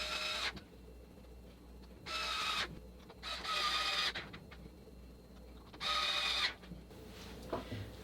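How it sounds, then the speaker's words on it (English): A cordless driver runs in repeated whirring bursts, each lasting about half a second to a second, as screws go into the fender of a OneWheel GT electric skateboard, with quiet pauses and small clicks between the bursts and no talking. "and we'll screw those in"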